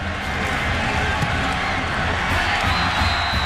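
A stadium crowd in the NCAA 2009 college football video game roars and cheers after a touchdown, a dense, steady wall of distant crowd noise that holds throughout.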